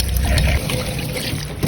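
Water runs and trickles close by while sweet potato and carrots are washed, a steady splashing stream that is loud at the start and eases slightly toward the end.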